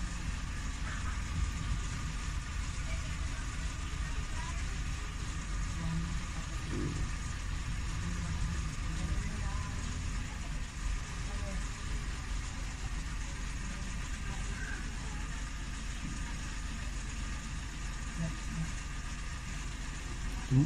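A Suzuki Every wagon engine idles continuously during a coolant check, giving a steady low rumble that stays even and fairly loud throughout with no revving.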